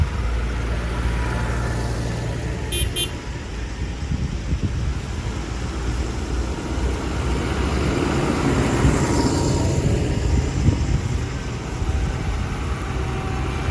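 Tractors roll past at a church tractor rally on Easter Saturday, a loud continuous engine rumble that swells as one vehicle draws near and then passes, outdoors with no speech.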